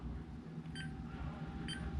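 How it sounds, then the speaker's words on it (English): An oven gives two short electronic beeps about a second apart as a 30-minute proofing timer is set, faint over a low steady hum. "we're gonna set a timer for 30 minutes."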